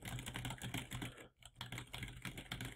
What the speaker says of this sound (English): I can type in whatever I want.